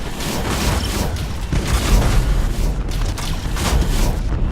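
A flagship blows apart in the space strategy game Battlefleet Gothic: Armada 2, with loud, rumbling booms and layered blasts that roll on continuously, heavy and close throughout.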